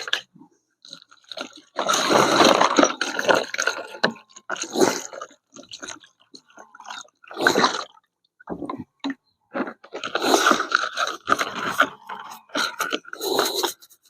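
Someone scrubs a rusty steel trap with a brush while rinsing it in clean water, with bursts of wet scraping and brushing strokes separated by pauses.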